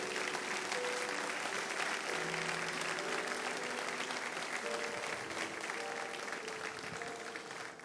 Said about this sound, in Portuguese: agora dê a Deus uma linda salva de palmas